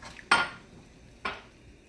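A spoon knocks twice against a pot of okra soup during cooking: two sharp, close metallic clanks about a second apart, each ringing briefly over a quiet kitchen.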